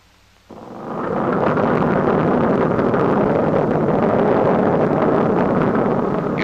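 A Boeing B-29 bomber's engine catches and roars into a steady, loud, continuous drone after a brief quiet start, the broad rumble holding constant without voices.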